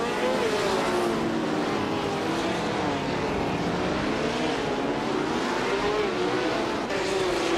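Race cars roar past in a continuous, loud engine drone at racing speed, with pitch sweeping up and down as they pass, dense and unbroken with no speech.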